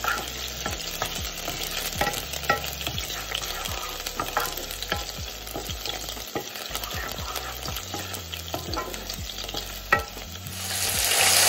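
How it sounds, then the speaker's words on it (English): Onions fry in hot oil in a pan for a home cooked minced beef dish, a continuous close sizzle broken by repeated sharp clicks and scrapes of stirring, with no one speaking. "When it's heated, you're gonna add some onions to it"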